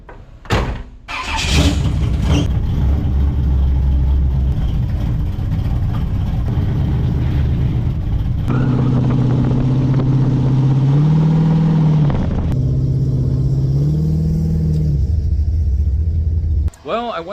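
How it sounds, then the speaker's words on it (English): A car engine with radial tires rumbles steadily on a test drive, rising and falling through several revving swells, with a door-like thud near the start and a loud continuous low drone throughout. "So let's go on a test drive."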